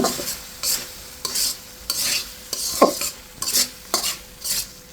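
Koi fish curry sautéed in oil in a pan, with a spatula scraping in repeated strokes about every second over a low, continuous sizzle, close and fairly loud.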